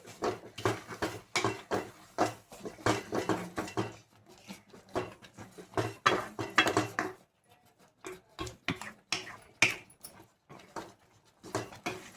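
A cook stirs thick puran, a lentil filling, in a cooking pot: repeated clinking and scraping strokes in quick runs, with a short quiet pause before the stirring resumes more sparsely.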